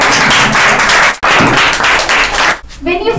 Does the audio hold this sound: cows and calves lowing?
no